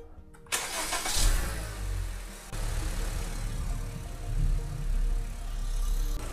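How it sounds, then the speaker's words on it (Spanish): A car's engine is cranked and catches, then settles into a steady idle, a close, loud rumble that swells and dips slightly over several seconds, with no talking. "vamos a encender entonces el auto"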